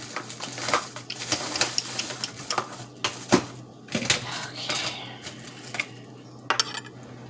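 A spoon works through tuna in a bowl, making steady close clinks and scrapes against the dish, with several sharper taps in between and a faint background hum.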